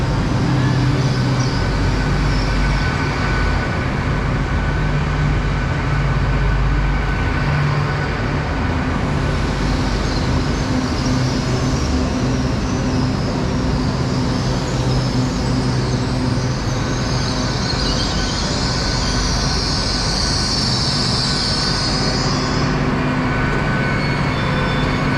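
The 0901 Great Western Railway Class 802 passenger service, unit 802 102, from Paignton to London Paddington pulls into a station, with a long, steady rumble of wheels and engines and a brief high brake squeal near the end.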